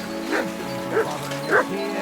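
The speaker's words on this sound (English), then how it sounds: "Good dog, Muff." A dog in the medieval role-playing game Kingdom Come: Deliverance 2 gives three short yipping barks, close and evenly spaced over a low steady background.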